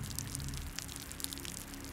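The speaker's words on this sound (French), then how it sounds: "La pluie tombe." Steady rain falls as ambience for a Call of Cthulhu tabletop role-playing session set in a cemetery at night, a soft continuous hiss with scattered droplet patters.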